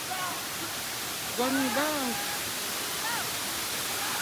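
Broadband roar of Balagbag Falls in Real, Quezon, a steady wash of falling water filling the whole scene, with someone speaking briefly over it partway through.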